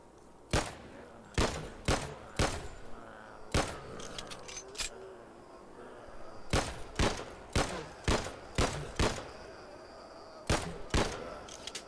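Repeated gunfire in the indie zombie shooter game Abandoned World, with sharp shots fired singly and in quick bursts of two or three across the stretch, loud and close over a low, rumbling game background.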